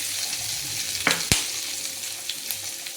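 Green chillies drop into hot oil left from frying hilsa fish, raising a steady close sizzle with two sharp spatters near the start and faint crackles after.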